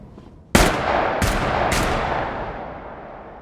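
Three loud gunshots ring out in quick succession at a shooting training session in a film, each sharp crack trailing into a long reverberant decay.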